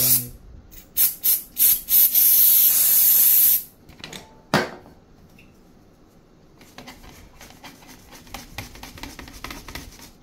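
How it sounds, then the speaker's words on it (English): Contactor cleaner sprayed on washing machine parts during repair of a Hisense washer with an F13 error: several short loud hissing aerosol bursts, then one long continuous spray, a final brief burst, and quieter clicking handling noises. "contactor cleaner ගෙනාවා මේක ගහනවා හැම එකකට."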